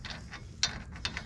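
A ratchet clicks in short bursts while tightening the axle nut on the front hub of a 1989 Chevy K1500 Silverado, a few quick faint pawl clicks heard alone and nearby.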